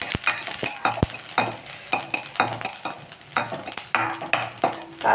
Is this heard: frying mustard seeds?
yes